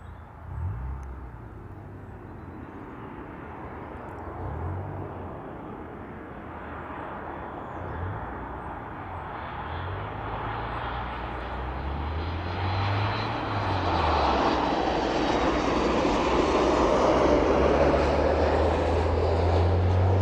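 A Ryanair-type jet airliner landing at East Midlands Airport, its engine roar building steadily and growing louder over twenty seconds as it nears and touches down, with a low rumble and a rising whine throughout and no talk.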